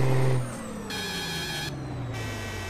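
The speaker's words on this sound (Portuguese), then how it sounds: "é um ronco que tá funcionando praticamente em todos os caminhões" A modded Scania truck engine in Euro Truck Simulator 2 runs with a deep steady roar that drops slightly after a brief louder opening, with bright tonal whines layered over the constant engine note.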